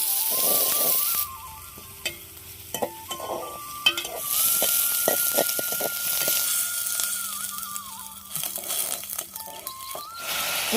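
Chopped onion sizzling in oil reused from frying rohu fish with a little fresh oil added, a steady hiss broken by clinks and scrapes of stirring against the pan.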